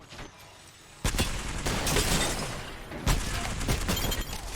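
Grenades exploding in Apex Legends during an Arena match: two loud, sharp blasts about two seconds apart, each followed by a sustained rumble, debris and gunfire-like noise.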